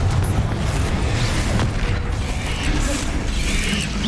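A Confringo fire spell blasts off in Hogwarts Legacy during a fight with a troll, a dense rumbling boom that fills the clip with continuous low roar and clatter.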